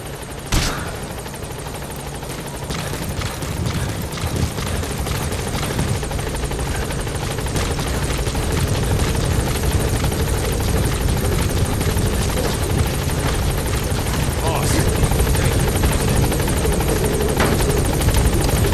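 A support helicopter lands in the video game Metal Gear Solid V: The Phantom Pain, a loud, close, continuous rotor thump and engine roar that holds steady, with scattered sharp gunfire cracks.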